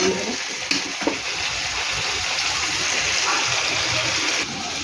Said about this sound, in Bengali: এবার এটা একটু ধুয়ে জল দেবো।